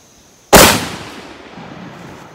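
A single shotgun blast loaded with black powder and pellets, one loud sharp report followed by a long decaying rumble and echo outdoors.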